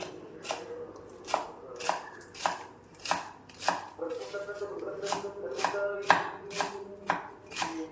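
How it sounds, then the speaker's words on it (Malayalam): A knife finely chopping spinach leaves on a board, producing a steady rhythm of crisp close chops, about two per second, with a faint voice murmuring underneath. "ഈ ഇലയെല്ലാം നല്ല കുനു കുനാന്ന് നരിഞ്ഞെടുക്കാൻ കേട്ടോ"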